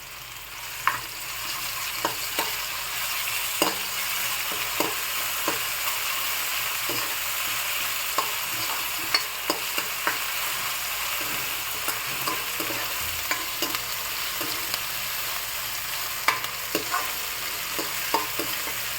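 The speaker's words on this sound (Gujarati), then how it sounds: "સરસ રીતે તળાઈ જાય એટલે હું એમાં આદુ મરચાંની પેસ્ટ નાખીશ" Ginger-chili paste and green onion sizzle steadily in a pan for a mung bean and rice dish, with frequent sharp scrapes and clicks of a spoon stirring throughout, close and moderately loud with no talking.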